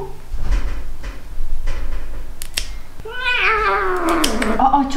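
A cat at a veterinary clinic lets out a loud, drawn-out protesting meow and caterwaul during handling for an examination, preceded by handling noises and a brief clatter.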